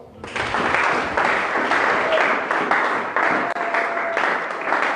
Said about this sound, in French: Acclame encore ça.